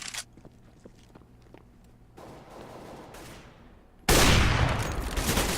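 Counter-Strike: Global Offensive gameplay on the Mirage map during a professional esports match: scattered single shots and footsteps at first, then a sustained burst of loud, close automatic gunfire toward the end, with no voices.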